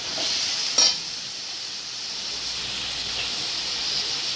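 Tomatoes frying in a pan of hot oil for tomato bajji give a steady, close sizzling hiss, broken by one brief clatter early on, with no voices.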